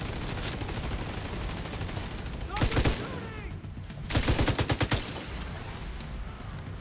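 An automated turret firing in The Division 2, two loud rapid bursts of gunfire over a constant background of game noise and distant shots.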